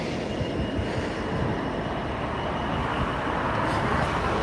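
A stationary train engine idles and revs at a level crossing, giving a dense, steady diesel rumble heard from a short distance, with faint outdoor noise and no talk.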